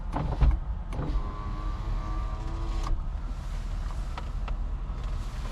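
Power windows of a 2005 Honda Accord whirring as they move, a steady electric motor hum with a brief whine near the start, heard inside the car with no talking.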